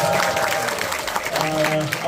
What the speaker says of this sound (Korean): 또 다시 한번 박수 한번.